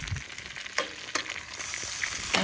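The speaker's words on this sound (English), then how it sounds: "It's kind of hard to do on this frying pan. And these eggs are just breaking." Eggs frying in a pan during rainy, windy camping, a steady crackling sizzle with sharp pops and spatters throughout.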